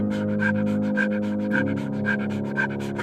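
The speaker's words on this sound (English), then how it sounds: "Panting is her only mechanism to shed core heat" A pronghorn pants in rapid, rhythmic breaths, about two per second, each a short hiss over a steady low droning hum that runs underneath throughout.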